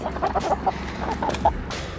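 Several chickens cluck in short, irregular bursts nearby, with soft background noise.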